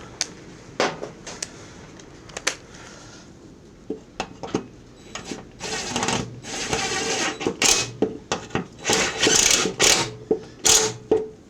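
Bolts are tightened on the deck of a Cub Cadet C-160G riding mower, with sparse metallic clicks at first, then dense, rapid ratcheting and clinking that grow louder and closer toward the end.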